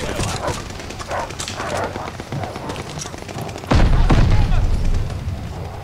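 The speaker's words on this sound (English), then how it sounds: "They have dogs." Dogs barking in the video game Call of Duty Vanguard, in short bursts mixed with game noise and a heavy boom partway through, while a voice talks over it.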